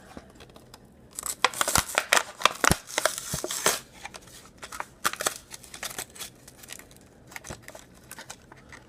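Plastic and cardboard packaging of a Greenlight 1969 Dodge Charger Daytona toy car torn open up close, irregular crinkling, ripping and snapping bursts with brief pauses.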